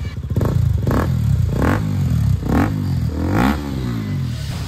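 KTM RC 390 motorcycle with its dB killer removed, revved repeatedly in loud close bursts, each throttle blip rising and falling with a raspy, rattling exhaust note.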